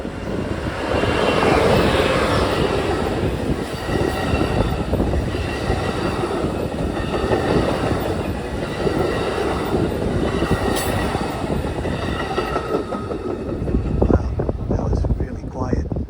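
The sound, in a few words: train passing by on tracks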